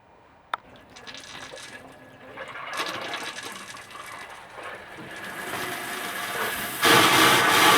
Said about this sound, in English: People forget about the toilet. It requires flushing out as well.